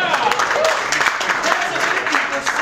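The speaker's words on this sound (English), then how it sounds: "Why isn't there a round of applause for the" Applause from the audience at a JavaScript conference talk, a moderate clatter of many hands clapping with voices mixed in underneath.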